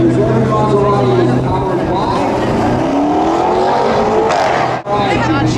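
Maserati race car engine drones steadily at Homestead Miami Speedway, a loud sustained roar with shifting pitch as it runs past. Crowd babble and voices mix in beneath the engine noise.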